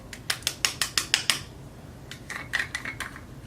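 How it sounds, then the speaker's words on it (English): Loose face powder is shaken out of a closed container in a quick, rhythmic series of about seven sharp rattles. After a brief pause, a softer, looser burst of shakes follows, close up and alone. "So I'm just going to put the top back on and shake some out so I can dip my beauty blender in it."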